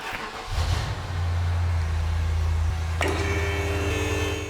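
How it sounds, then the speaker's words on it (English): A BMW E70 X5 V8 fires up and settles into a steady, loud idle hum, raised on a lift, with a brief higher whine joining partway through. "Now I'm gonna start the car"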